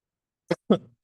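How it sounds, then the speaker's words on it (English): A single throat clearing, two short rough bursts in quick succession, close up against otherwise silent surroundings. "let me clear my throat first"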